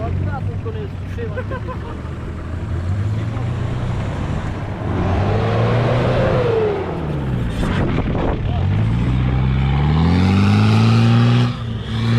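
A Lada Niva descending a hill off-road on a first outing of the year in Zakarpattia, engine droning and rising and falling in pitch with revs, close and loud, with people talking over it.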